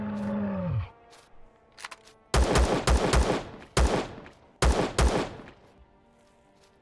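Gunfire in the video game Empyrion: several loud, sharp shots in quick clusters separated by pauses, after a creature's rising roar-like sound at the start.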